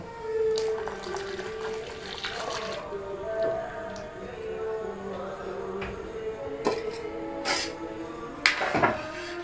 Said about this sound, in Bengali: এবার আমি এই দুধটা এর মধ্যে ঢেলে দেব।